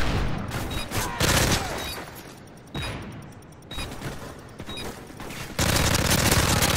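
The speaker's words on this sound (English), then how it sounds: "I just fucking hear shooting everywhere" Video game gunfire during a PM9 session, bursts of rapid automatic shots and scattered single reports in uneven clusters, loud and close with some more distant fire.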